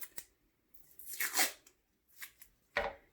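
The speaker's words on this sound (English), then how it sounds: "The next step is to take your toothpick and tape it on" Tape is torn off a roll in several quick rips, close and fairly loud, while attaching a toothpick to a small model building, with short pauses between the bursts.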